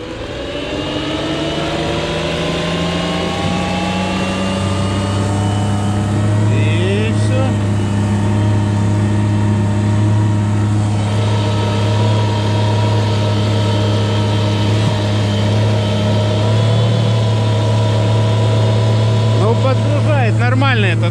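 A homemade electric outboard boat motor runs at high throttle, a loud steady whine with a strong low hum that rises and holds, continuous and close, with strained mechanical overtones throughout.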